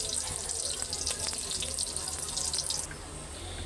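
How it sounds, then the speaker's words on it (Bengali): Rice and lentils are washed under a running tap at a sink, with close, splashing water for nearly three seconds before the flow stops and only a quiet background remains. "এখানে চাল ডাল সব কিছু ধুয়ে রাখছি"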